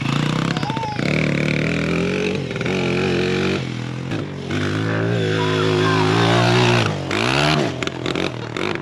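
Stock 110 pit bike engine kickstarted and running, a loud close motor with wavering revs and a few rising and falling pitch sweeps, with clattering and brief talk.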